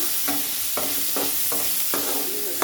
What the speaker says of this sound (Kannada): ಆಲೂಗಡ್ಡೆ ಬಾಡಿಸ್ಕೊಳ್ಳೋಣ